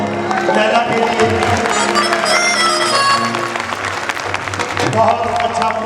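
An audience claps after a Punjabi song performance, a moderately loud burst of applause mixed with a voice speaking over it and music lingering underneath.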